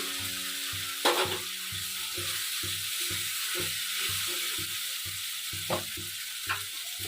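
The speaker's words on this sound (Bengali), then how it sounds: "মশলাটা একটু ভালো করে কষিয়ে নেবো ওই সাথে আলুটা দিয়ে দেবো" Spice paste and potatoes frying in a pan for aloo biryani, a steady close sizzle broken by a few sharp stirring scrapes, with a low rhythmic hum running beneath.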